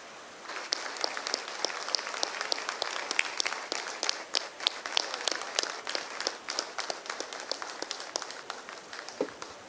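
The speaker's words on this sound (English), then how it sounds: "A resounding, warm round of applause." A closing-ceremony audience applauds for nearly ten seconds, the clapping starting sparse, then thickening into a steady, lively wash with sharp individual claps popping out near the front.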